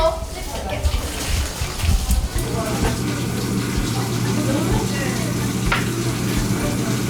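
Pork belly frying in a pan gives a steady close sizzle and crackle with occasional stirring clinks, under ongoing conversation.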